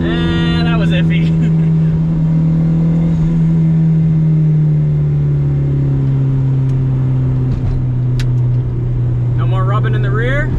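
Boosted Honda Civic race car engine, fitted with a stage 4 competition clutch, droning loudly from inside the cabin, with sharp throttle blips and revs rising and falling during heel-toe downshifts; a voice talks briefly over it.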